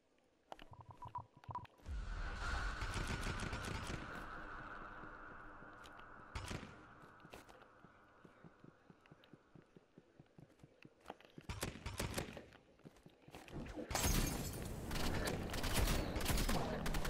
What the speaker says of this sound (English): he's using burst rifle